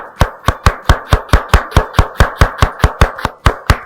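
Onions for a kebab salad are chopped with a knife on a board in quick, steady strokes, about five per second, each a sharp close thud, with no talk over them.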